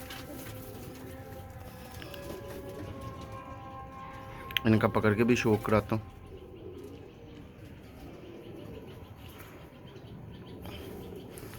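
Champion pigeons coo in one clear burst of calls at mid-clip, rising over a room hum while someone speaks around it.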